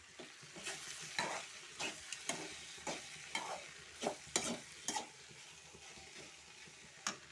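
Okra (bhindi) frying in a pan on low heat, with a steady faint sizzle under repeated sharp scrapes and clinks of a spatula stirring the vegetables, spaced irregularly across the clip.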